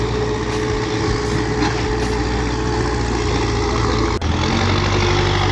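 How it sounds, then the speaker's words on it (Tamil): A JCB excavator works at nearby road works, a loud, steady, low diesel drone with a constant mechanical hum and no pauses, heard close at hand and without speech. "சவுண்டு பின்னாடி ஜேசிபி வேலை நடக்குது"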